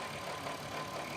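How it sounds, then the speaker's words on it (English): An Audi V6 engine idles with a steady low rumble and faint rattly texture, continuous and fairly close, with no voices. "I have noticed that the engine actually sounds a little bit rattly"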